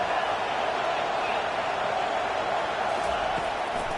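Packed college football stadium crowd roaring as the defense faces third and long, a loud, steady wall of cheering that holds without a break throughout.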